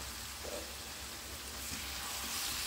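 Vegetables for veg biryani frying in a pan, a soft steady sizzle with faint occasional stirring, quiet and close with no talk.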